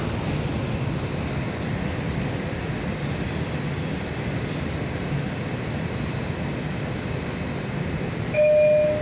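A Manhattan-bound 4 express subway train runs at speed with a steady roaring rumble, rattling continuously; a brief high squeal and louder burst come near the end.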